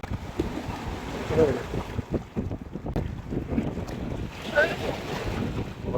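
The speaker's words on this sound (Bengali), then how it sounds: "বড় বড় ঢেউ" Big waves slosh and surge around a fishing boat on floodwater amid heavy wind buffeting, with voices faintly talking under the rushing noise.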